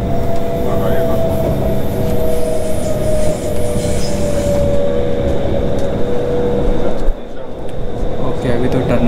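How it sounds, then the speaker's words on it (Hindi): A loud, continuous rumble of a Bangkok Metro Blue Line train in motion, heard from inside, with a steady hum and a faint whine, a voice speaking faintly under the noise. "First metro travel in blue line."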